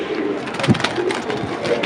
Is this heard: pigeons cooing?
yes